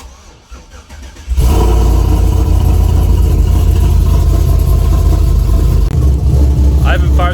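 A truck with a faulty transmission starts up in a garage after sitting unused for a week, catching abruptly and settling into a loud, steady idle with a brief dip near the end and a voice over it.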